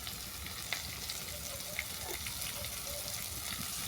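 Spices for a fish curry with rohu fish and bottle gourd sizzling in a pan, a soft steady frying hiss with a few faint clinks of stirring, moderately quiet.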